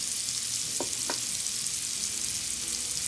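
Garlic and green onion saute in a pan with a steady, even sizzle throughout, broken only by two quick clicks near the start, and no talking.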